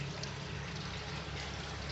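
Water trickles steadily down a small waterfall in a custom reptile tank, a faint, even splashing flow heard alone.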